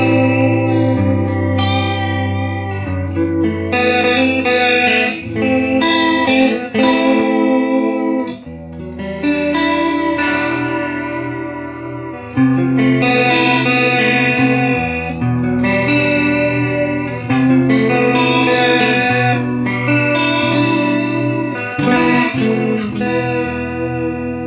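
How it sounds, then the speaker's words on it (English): Electric guitar played through a vintage Nobels CH-D digital stereo chorus pedal set to high resonance, giving loud sustained chords with a wobbling, shimmering modulation and some grit, continuous and up front with no talking. "It is a digital chorus, not an analog chorus."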